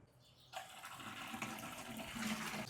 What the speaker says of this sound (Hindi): यहाँ से पानी की सप्लाई अब बकेट तो स्टार्ट हो गई है